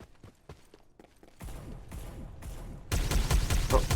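Bursts of gunfire in the battle royale shooter Farlight 84, sharp shots scattered at first, then growing into a dense, loud volley near the end, with no talk over it.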